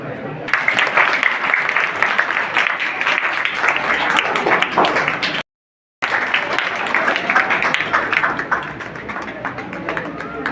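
A crowd applauds at a village birthday program honoring a social worker in Garhpadhana, Punjab: dense, continuous clapping close by, briefly cut to silence midway and then resuming just as strongly.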